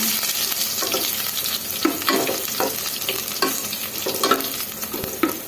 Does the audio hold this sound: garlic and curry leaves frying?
yes